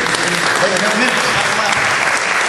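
Crowd applause at a political candidate forum for a city council race, a loud, continuous wash of clapping with cheering voices mixed in throughout the short stretch.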